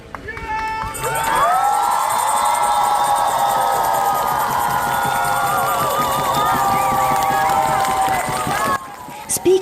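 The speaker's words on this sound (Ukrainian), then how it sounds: "І нарешті момент істини вибухає гучними оплесками на вулиці." A protest crowd outside parliament erupts in loud, sustained cheering and applause, with shouts and whistles. The noise is close and continuous for most of the stretch, then briefly drops away near the end.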